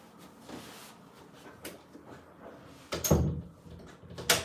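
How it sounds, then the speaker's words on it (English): A door is pushed shut indoors at around three seconds, giving a firm close and thud, with another sharp knock near the end over quiet room noise. "Let me just get this door shut."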